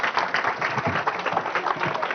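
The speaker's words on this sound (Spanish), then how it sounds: "un fuertísimo aplauso para Adrián Núñez y para Sebastián Velázquez" A conference audience gives a steady round of applause, dense and fairly close, with a hint of crowd murmur under the clapping.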